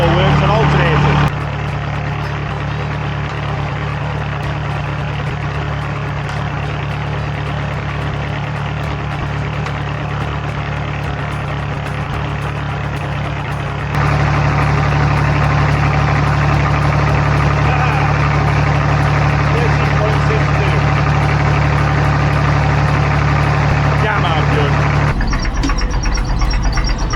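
The engine of an abandoned JCB 2CX backhoe runs at a steady idle for the whole stretch, loud and close, with a slight change in tone partway through and again near the end.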